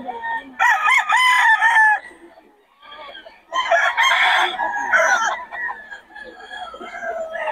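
Several roosters crow loudly and close by in two long bursts, with clucking from other chickens and a short pause in between; no talking.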